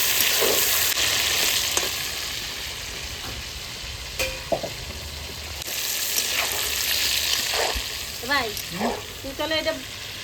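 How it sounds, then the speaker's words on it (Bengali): Meat frying in hot oil in a pan makes a loud, continuous sizzle with stirring and scraping. A few brief vocal sounds come near the end. "আমি মাংসটা তেলে ছাড়িয়ে দিই"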